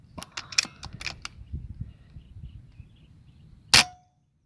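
An air rifle fires at birds in a rice field: one sharp, close crack near the end, preceded by several light clicks and handling taps and faint low rustling.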